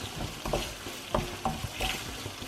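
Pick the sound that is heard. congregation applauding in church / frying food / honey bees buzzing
frying food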